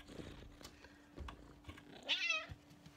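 A pet cat gives a short, rising meow near the middle, faint and close amid soft rustling, light taps and a low steady hum.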